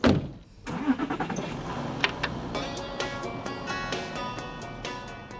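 A car engine cranks and catches in a radio play sound effect, then revs and pulls away, the motor noise steady and fairly close before slowly easing off; no talking.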